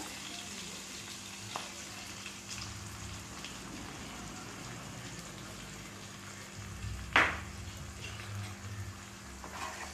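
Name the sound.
peanut and chana dal paste sautéing with fenugreek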